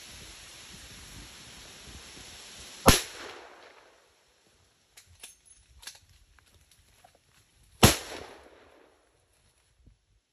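Two sharp, loud rifle shots during a bison hunt, spaced about five seconds apart, each ringing out with a fading outdoor echo, with faint rustling and small clicks in between.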